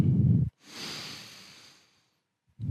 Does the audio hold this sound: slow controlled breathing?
yes